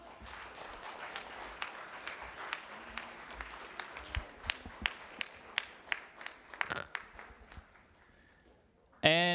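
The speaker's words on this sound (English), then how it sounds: "give a big, big round of applause to the true pioneers of the Bangladeshi community" An audience at a Bangladesh Heritage Week independence celebration gives a round of applause, a wash of many hands with sharper individual claps standing out, gradually fading before a voice returns at the end.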